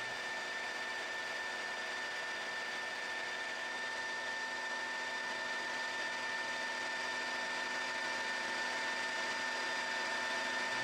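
Lathe drilling a 2.5 mm through hole in a small soldering fixture for capacitive discs, a steady machine hum with a faint high whine running evenly throughout, no voices.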